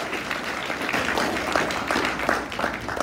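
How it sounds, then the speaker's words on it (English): Student awards audience applauding the Best Editor nominees at a red-carpet media ceremony: a steady wash of many hands clapping at moderate distance, continuous for several seconds with a few sharper individual claps. "Give me a round of applause."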